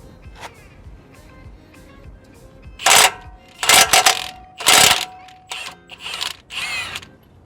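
A Milwaukee power tool drives a 50 mm socket to loosen a nut during front brake work on a Range Rover Evoque, sounding as several loud, short whirring and rattling bursts close by.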